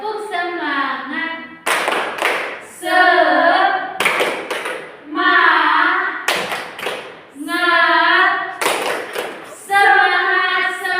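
A class of children performs the tepuk semangat spirit clap, sharp bursts of group clapping alternating with loud chanted phrases in a repeating rhythm, close and energetic.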